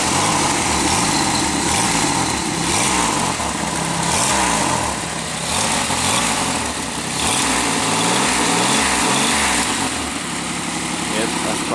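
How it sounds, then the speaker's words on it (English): A Pontiac Aztek engine idling with an exhaust leak, giving a loud, steady rhythmic puffing and ticking drone close by throughout. "it sounds like there's an exhaust leak down there."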